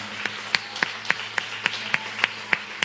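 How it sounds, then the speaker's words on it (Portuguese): Churchgoers clap in a steady, even rhythm, about three or four sharp claps per second at moderate distance over a low background hum. "Aplauda o Senhor Jesus"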